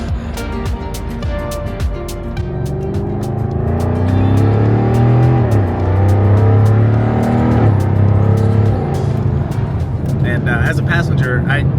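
Jaguar F-Type R engine pulling hard through a run of gear shifts, a loud, steady exhaust note that climbs and drops with each change before settling, heard from inside the car.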